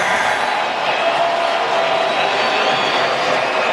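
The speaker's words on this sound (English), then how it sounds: "Listen to this crowd." A baseball stadium crowd during the ninth inning of a Padres vs Cubs game makes a steady, loud roar, continuous and unbroken throughout.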